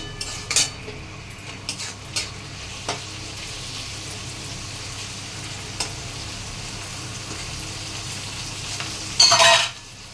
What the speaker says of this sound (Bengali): পেঁয়াজটা লাল হয়ে যাওয়ার পর আমি টমেটো দিয়ে দিলাম